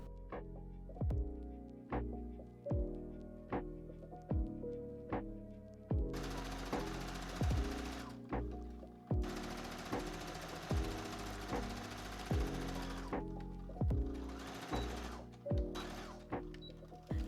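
Home sewing machine stitching a summer dress skirt to its bodice, running in a steady rhythmic series of short bursts with brief pauses between, close and moderately loud with no talk.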